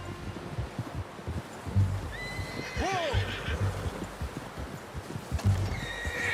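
A horse in the video game Red Dead Redemption 2 lets out a loud, close whinny among clopping hooves, and a voice briefly exclaims over the sounds.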